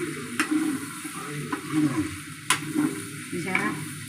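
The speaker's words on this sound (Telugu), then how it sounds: "చక్కగా వేగింది" Chicken frying in a pan, a close crackling sizzle with a few sharp spatters and stirring scrapes, rising and falling over several seconds without speech.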